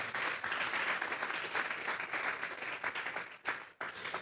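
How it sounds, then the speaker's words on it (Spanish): A church congregation breaks into sustained, dense applause that fills the space, dips briefly near the end, then swells again, with no talk over it. "Vamos a darle un fuerte aplauso pues al Señor esta tarde."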